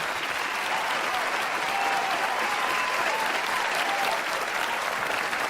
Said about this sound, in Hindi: आप सबकी ज़ोरदार तालियों के साथ